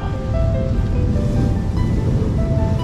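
Ocean waves and surf rushing on a shore, a steady loud wash of water with wind buffeting the microphone and no voices.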